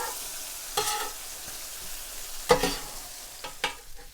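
Chorizo with fajita vegetables sizzling on a flat griddle, a steady hiss broken by a few sharp bursts as food is tossed and scraped, close and moderately loud.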